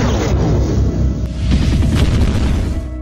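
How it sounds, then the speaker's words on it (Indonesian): A heavy full-power energy blast explodes in an anime battle, a loud sustained booming roar with crackling bursts lasting about three seconds, with no voices over it. "tembakan kekuatan penuh ditembakkan ke arah Altima."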